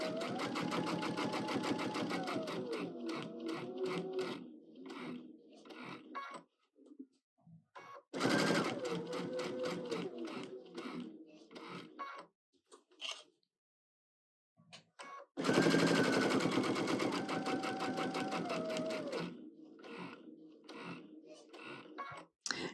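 A sewing machine stitching a quilt block seam in bursts of rapid mechanical chatter, loud and close, separated by short pauses and near silence, with no talking.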